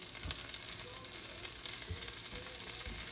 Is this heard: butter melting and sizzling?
yes